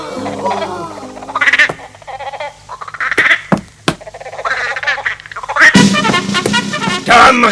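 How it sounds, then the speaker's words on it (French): A frog croaks in a cartoon scene, with several throaty calls and bursts of chirping over a faint background, ending in a denser run of loud close croaks. "Je suppose que cette grenouille t'appartient."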